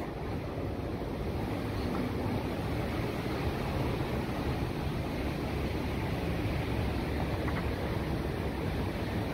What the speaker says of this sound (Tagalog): maririnig nyo po, oh, hangin. Ang lakas. Parang may bagyo.